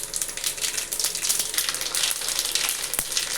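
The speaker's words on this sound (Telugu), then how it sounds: "ఇప్పుడు నూనె వేడెక్కింది కదా, ఇప్పుడు ఈ పోపు దినుసులు వేసుకున్నాము" Tempering spices sizzling in hot oil in a pan while cooking upma from idlis, a close, steady crackling hiss with a few sharper pops.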